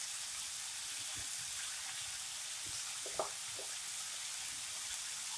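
Turmeric, coriander and chili powder frying in hot oil as a green beans and potato sabji is stirred, a soft continuous sizzle with occasional light scrapes and one small clink, fairly quiet.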